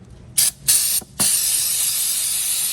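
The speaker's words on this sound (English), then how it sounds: "Using more carb cleaner, solvent, clean the bolts here." Aerosol carb cleaner solvent sprays onto car bolts during a Firebird build: two short hissing bursts, then one long continuous spray, loud and close.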